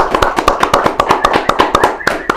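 Close, sharp handclaps arrive in a quick, fairly regular rhythm, about a dozen loud snaps in a couple of seconds, with no talking over them.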